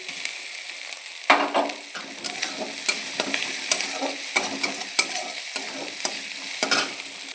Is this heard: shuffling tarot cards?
no